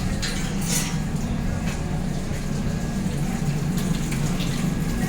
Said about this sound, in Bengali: কি হলো, কলটা বন্ধ করতে পারছিস না?